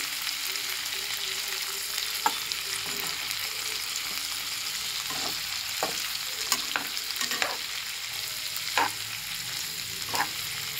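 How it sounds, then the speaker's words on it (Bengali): Onions fry and sizzle in a pan for chili chicken, a steady soft hiss broken by scattered scrapes and knocks of stirring, with no talking. "পেঁয়াজগুলো দিয়ে আবার পেঁয়াজগুলো একটুখানি ভেজে নিচ্ছি"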